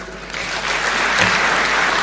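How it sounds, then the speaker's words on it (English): Steady audience applause fills the hall after a speech at an Africa fertiliser and soil health summit, a dense, sustained clapping with no voices over it. "Let's give him a warm thank you clap."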